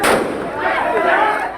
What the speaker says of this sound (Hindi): सबसे पहले इस युवक ने पहली फायरिंग की